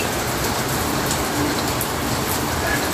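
Steady rain falls on a cold morning, a dense, even hiss of drops that holds at the same level throughout with no pauses.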